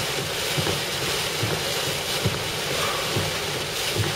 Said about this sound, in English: And look at that gust. Look at that wind.